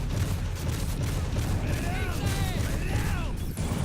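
In the video game Men of War Assault Squad 2, 40mm fire rumbles through a dense, continuous battle din, with low blasts and faint whistling projectiles passing overhead.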